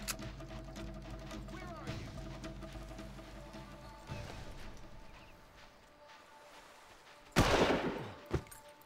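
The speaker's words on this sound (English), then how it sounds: "Who else is shooting at me?" Gunfire in the video game Far Cry, bursts of rapid shots over game noise through the first seconds, quieter stretch, then a loud close blast followed by another sharp shot near the end, a voice talking faintly underneath.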